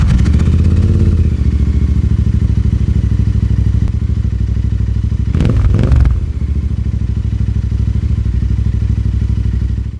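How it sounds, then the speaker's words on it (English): Royal Enfield Interceptor motorcycle with a 270-degree crank running through its stock exhaust pipes, a loud close rumbling idle with a steady throb and a brief clattering blip around the middle, no voices. "But even the stock pipes on this bike sound great. With that 270-degree crank, it sounds awesome."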